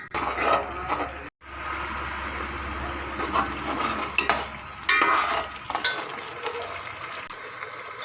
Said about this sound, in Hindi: अब हम प्याज को अच्छे से भूनेंगे ताकि इसका कलर चेंज हो जाए।